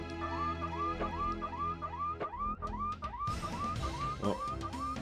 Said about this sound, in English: Oh, hit the car alarm.